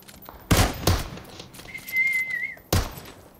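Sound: gunfire in PUBG Mobile video game

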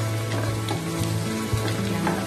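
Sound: onion paste frying in a pan

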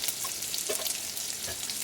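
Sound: mustard seeds and masala frying in oil

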